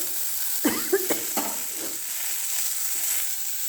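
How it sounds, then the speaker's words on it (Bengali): Garlic frying in hot oil in a pan, a steady bright sizzle with a few clinks and scrapes as pieces are lifted out, close and continuous. "দেখো রসুনগুলো তুলে নিচ্ছি, ফ্রাই হয়ে গেছে।"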